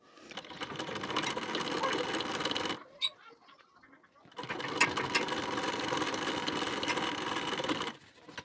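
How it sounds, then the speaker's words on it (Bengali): Close, loud sewing machine stitching along the belt part of a blouse: two long continuous whirring runs separated by a brief pause with small mechanical clicks. "দেখুন বেল্টের পাটে সেলাই দিয়ে নেওয়া হয়ে গেছে।"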